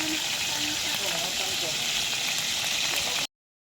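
Dried fish (buwad) frying in cooking oil, a continuous dense sizzle and crackle held at steady loudness until it cuts off abruptly near the end.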